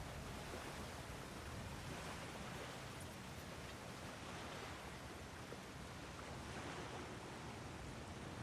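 Water flowing steadily in God of War Ragnarok after a blocked channel is cleared, a continuous rushing wash like surf that holds at an even, fairly loud level throughout with no talk over it.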